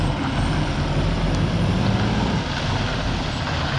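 An Autocar Labrie Automizer split-body garbage truck maneuvers on a rainy day, its engine giving a loud, steady broadband rumble close by with no talking.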